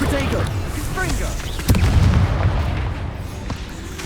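Booming blasts from a Confringo blasting spell in the Hogwarts Legacy video game, with a sharp burst near the middle that rolls into a heavy rumble, set among other busy combat effects.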